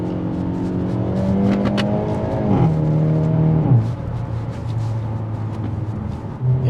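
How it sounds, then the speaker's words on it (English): A 2024 Hyundai i30 Sedan N Premium with DCT revs hard and accelerates with its exhaust set to full, a loud, close, continuous engine roar that climbs in pitch, drops on a quick gear change, then builds again. "I'll give it full exhaust noise."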